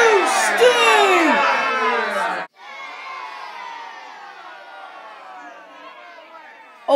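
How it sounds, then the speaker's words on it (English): A crowd of children shouts and jeers loudly together, then cuts off sharply into a quieter stretch of lingering, softer crowd chatter and noise. "Hey, why are you guys all booing at me?"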